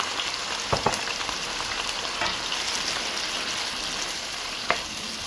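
Chopped onions fry in hot sunflower oil with a steady close sizzle and crackle, a few sharper ticks of stirring breaking through, no voices.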